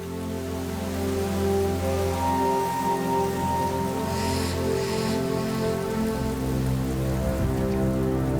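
Rain falls steadily on the Linyanti plain, a dense, even hiss of drops over a sustained low tonal backing, loud and continuous throughout.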